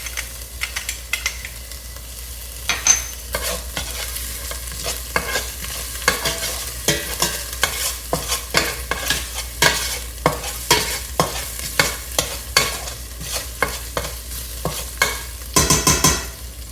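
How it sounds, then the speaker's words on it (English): Green chilies sauté in a pan while being stirred for a Sri Lankan-style tinned jack mackerel curry. A steady close sizzle sits under frequent sharp scraping strokes of a utensil against the pan, ending in a quick flurry of scrapes. "I just want to just saute this a little bit and go in with our green chilies."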